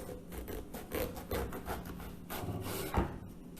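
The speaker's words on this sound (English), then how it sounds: "Cut the brinjals into thick roundels" Knife slicing eggplant into thick rounds on a board, soft rubbing cuts in a series of quiet strokes with a sharper tap near the end.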